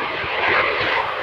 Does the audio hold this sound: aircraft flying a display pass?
yes